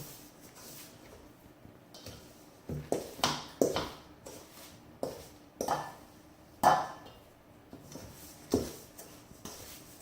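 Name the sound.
mixing cookie batter in a bowl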